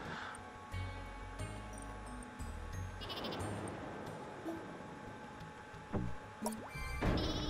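Sheep in the video game Flockers bleat repeatedly over a busy, continuous game soundtrack with clicks and chimes, and the bleats are moderately loud and mixed into the steady music.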